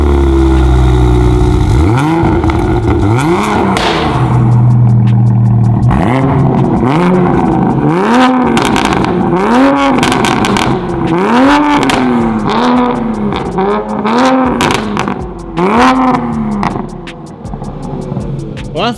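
A 2020 Toyota Supra with a new exhaust driving and revving, loud repeated engine pulls rising and falling in pitch, heard close from inside the car with brief talk mixed in.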